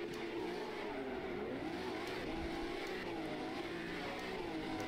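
Ferrari FXXK Evo hypercar engine in rFactor 2 at a race start at Leicester GP, a loud, steady high-revving roar with shifting pitch and other cars blending in, continuous with no talk.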